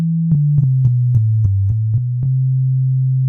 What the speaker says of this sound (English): if we play a few notes on our MIDI keyboard, you hear a sine wave sound